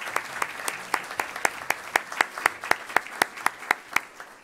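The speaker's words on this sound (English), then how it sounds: "A big round of applause for our sponsors and partner." An audience at a Columbus Metropolitan Club talk applauds, its claps falling in a fairly even rhythm that rises in loudness across a few seconds.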